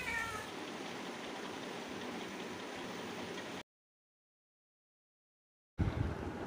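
A cat meows to go outside into the rain: one short meow at the very start over steady rain noise, then a stretch of silence and an abrupt return of the noise.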